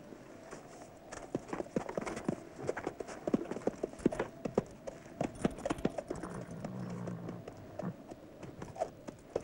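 Horses' hooves clip-clop in an irregular cluster of sharp knocks, moderately close and continuing for several seconds, with brief murmured voices beneath.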